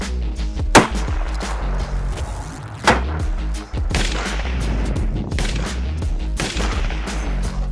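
A rifle fires factory loaded ammunition in a recoil test, with a few loud sharp reports spaced seconds apart over a steady background hum, heard up close.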